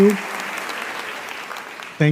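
Applause from a comedy-show audience fills the stretch as a steady patter of many hands, with a voice briefly at the start and again at the end.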